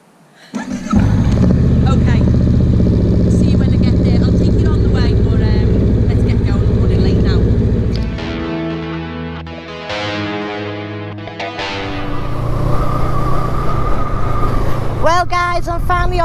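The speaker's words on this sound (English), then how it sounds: "Now I can get on my bike and warm it up" A Honda Rebel motorcycle engine starting up and idling loud and close with a steady low rumble, then revving in rising and falling pulls as it moves off.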